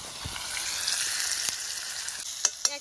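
Ground spices hit hot oil in a village kitchen pan while country chicken is cooked, giving a steady soft sizzle with a few sharper spits and stirring knocks near the end.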